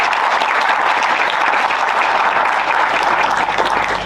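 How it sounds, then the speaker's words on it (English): An audience at an HR conclave gives sustained, dense applause, loud and continuous for several seconds with no talking over it. "A huge round of applause for the Industry Interaction Committee for making this event a huge success."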